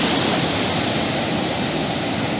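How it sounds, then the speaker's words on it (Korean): Calm ocean waves at San Carpoforo Creek Beach on a clear-water shore, heard as a continuous loud broadband wash of surf with no distinct breaks and no voices. "여기는 파도가 조금 잔잔한 편이고 이렇게 물이 맑아요"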